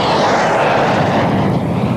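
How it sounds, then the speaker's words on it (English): A Javelin delta-wing fighter jet with Armstrong Siddeley gas turbine engines roars loudly in a brief, broad rushing burst, close and alone. "The Javelin was the world's first delta-wing fighter powered by gas turbines."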